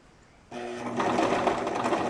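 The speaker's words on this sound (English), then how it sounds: "here I am stitching the shoulder pieces together" Sewing machine stitching shoulder pieces of a bodice for a Wicked Witch replica costume, starting up after a quiet moment and then running in a steady, close, continuous whir.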